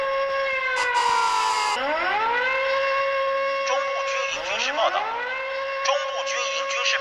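A wartime air raid siren in the 1988 anime film Grave of the Fireflies wails in long rising and falling tones, loud and sustained, repeating its swoop several times with a brief higher tone early on.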